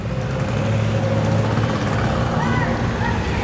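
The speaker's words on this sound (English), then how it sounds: "Lotus Elite is on the move." A classic Lotus Elite pulls away at an outdoor car show, a steady droning engine note running under background voices and ambient noise.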